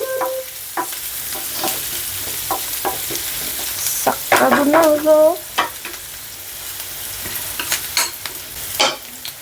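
Sliced onions sizzling in oil on a non-stick tawa, a steady hiss broken by sharp scraping strokes of a spatula as they are stirred, close and clear with no talking.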